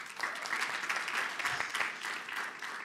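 A hotel ballroom audience at an anniversary celebration claps steadily for about three seconds, the applause dense and even at moderate distance with no talking.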